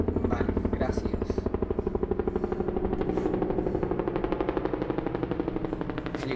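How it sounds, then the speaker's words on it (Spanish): Rapid, loud rotor chopping from helicopters in the video game Metal Gear Solid V: The Phantom Pain, a dense steady thudding pulse that fills the whole stretch. "Helicópteros. Supongo que buscándome."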